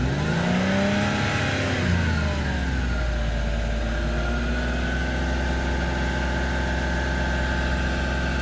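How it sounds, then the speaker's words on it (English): A used car's engine idles with a low steady rumble, then revs up and holds a higher, sustained whine, close and loud with no talking. "Can you rev the car up a little bit?"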